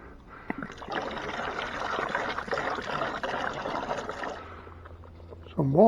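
Water, then beer, is poured into a smoker's water pan, making a steady splashing, trickling wash for several seconds that tapers off. A voice comes in briefly at the end.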